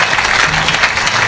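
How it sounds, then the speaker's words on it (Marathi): A devotional bhajan gathering bursts into dense, loud applause from the assembled audience, a steady wash of clapping throughout the brief moment. "आमच्या भाविकासाठी जरा वाचू आपण टाळी सर्वजण."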